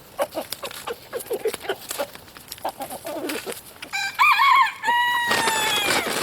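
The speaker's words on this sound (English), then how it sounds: "Listen to them cluck." Chickens cluck and squawk near at hand while being fed bread, a run of short scattered calls growing into louder, drawn-out cries, with pattering and shuffling under them.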